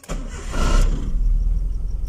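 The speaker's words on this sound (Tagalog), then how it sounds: "Start na natin na sasakyan." A car engine is started: a brief crank catches and settles into a steady, rumbling idle close by, with no talking.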